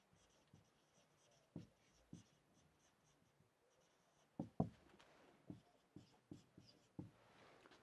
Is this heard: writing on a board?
yes